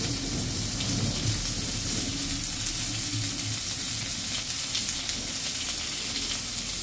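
Potatoes frying in oil with salt and turmeric for a rohu fish curry, giving a steady, loud, dense sizzle and crackle that holds without a break from start to finish.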